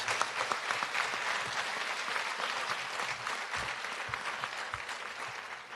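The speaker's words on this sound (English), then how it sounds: "Can we give Ethan and Ryder another round of applause?" An audience at an elementary school fourth grade promotion ceremony claps for two students, a continuous crowd applause heard from a distance, steady and fairly soft with a few sharper claps standing out.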